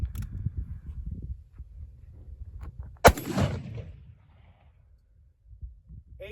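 A single sharp gunshot from a .38 Special revolver firing black powder loads with 158 grain jacketed flat point bullets rings out loud midway, with a rumbling tail that fades over low background noise.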